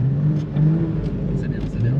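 Porsche engine revving on light throttle during a drift, a steady mid-pitched drone that swells and eases over about two seconds, with someone talking over it.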